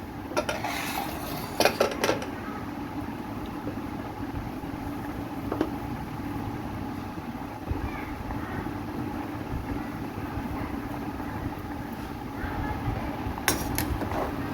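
A spoon stirs mutton pasta inside a pressure cooker pot, making intermittent metallic clinks and scrapes over a low steady background hum.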